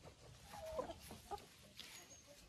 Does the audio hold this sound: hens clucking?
yes